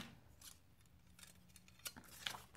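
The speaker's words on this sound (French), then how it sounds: "je vais prendre les ciseaux" Scissors snipping paper to trim a photo for decorating a shabby-style jewellery box, a few quiet, close cuts and clicks spread unevenly, with no talking.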